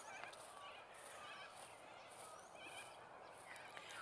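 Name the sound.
ducks woken up by the river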